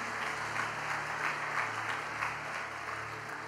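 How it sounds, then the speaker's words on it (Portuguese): A church congregation gives a steady round of applause, full and sustained, with a low droning tone underneath and no speech on top. "Dá uma salva de palmas para Jesus."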